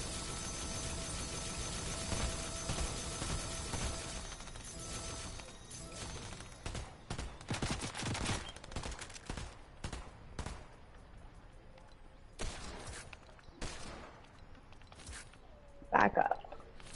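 Gunfire in the video game Fortnite crackles through the opening seconds as dense bursts, then thins into scattered sharp shots and rustling effects, with a sudden loud burst near the end and players talking over the mix.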